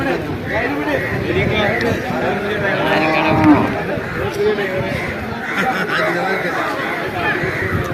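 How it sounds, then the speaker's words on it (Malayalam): Bull calves and buffalo calves at a busy livestock market, with moos and lowing rising over a steady babble of people talking and trading throughout. "മൂരിക്കന്നുകളോ എരുമക്കന്നുകളോ നിൽക്കുന്ന ഏരിയ"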